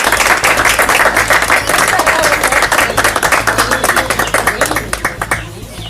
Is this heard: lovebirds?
no